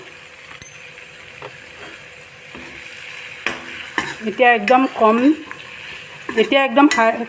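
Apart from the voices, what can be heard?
paneer with spices frying and stirred in a pan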